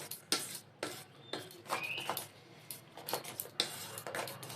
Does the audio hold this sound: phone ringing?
no